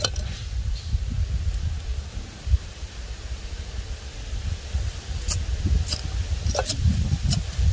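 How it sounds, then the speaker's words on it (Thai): Strong wind blows hard outdoors at a countryside cooking spot where bamboo shoots are being prepared over a fire, a steady loud low rumble with gusts swelling and easing, plus a few faint high clicks near the end. "ได้ยินเสียงลมไหม"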